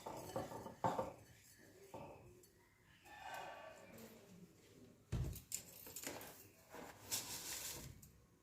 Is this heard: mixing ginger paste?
yes